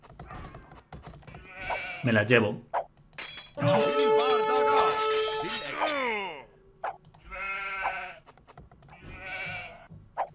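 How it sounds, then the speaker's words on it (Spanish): Sheep in the video game Age of Empires II give several loud, wavering bleats in a cluster near the middle, with softer game sounds around them and someone speaking Spanish before and after. "Ovejas."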